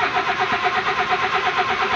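A Honda Civic VTEC engine with a distributor fault being cranked without firing, the starter turning it over in a fast steady rhythmic churn, close and loud, with no voices.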